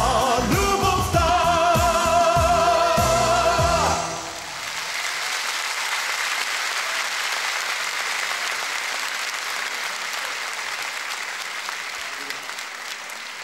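Audience applause breaks out after a Veselin Marinov love song at a concert, a dense, steady wash of clapping that follows the fading music and carries on loudly for about nine seconds.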